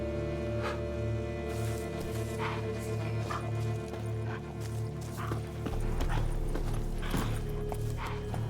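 A horse in The Witcher 3 moves with a steady clip-clop of hooves at close range, and an even rhythm runs under a music bed that holds steady notes.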